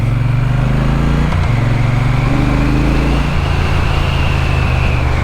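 A 2024 Triumph Bonneville T120 motorcycle riding downhill, its loud steady engine drone shifting pitch in steps as the rider changes speed, with heavy wind rush over it.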